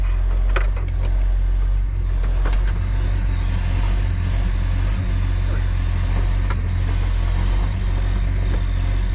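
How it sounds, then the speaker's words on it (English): A 1967 Chevelle engine idling at about 600 RPM, a steady low rumble held close and loud throughout, with faint clicks and a few light knocks over it and no voices. "It's idling about about 600 RPMs"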